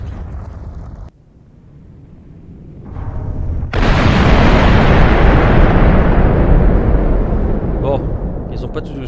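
Missiles hitting a bunker in Minecraft on a NationsGlory server set off a long roaring explosion that swells, then holds as a heavy rumbling blast for several seconds.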